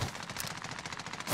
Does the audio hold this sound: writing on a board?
no